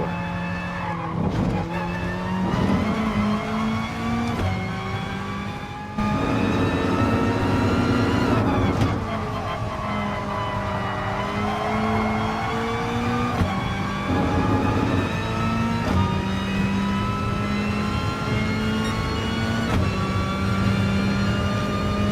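Race car engine in Gran Turismo Sport on a qualifying lap, a loud continuous whine rising and falling through gear changes, with brief dips at shifts and tire squeal mixed in, running steadily throughout.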